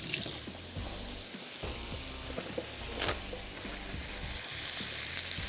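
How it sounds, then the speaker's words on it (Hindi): Chili garlic prawns stir-fry on high heat, giving a steady close crackling sizzle. Sharp spits and pops flare up throughout, with a louder burst near the middle, and there is no talking. "चले, तेज़ आंच पे थोड़ा सा फ्राई करके निकाल लेंगे।"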